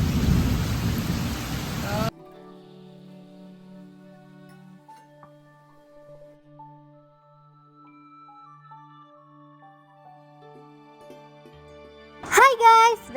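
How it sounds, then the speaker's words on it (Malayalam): Heavy rain roars loudly for about two seconds as a dense, hissing downpour, then cuts off abruptly, leaving faint, sustained tones and a brief louder burst near the end. "ഇന്ന് നല്ല മഴയുള്ള ദിവസമാണ് കേട്ടോ"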